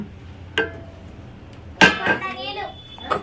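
A metal bowl clangs in a home kitchen while a herbal kashayam is prepared, two or three sharp bright clanks at intervals with ringing tails, close by, between bits of talk that include a voice.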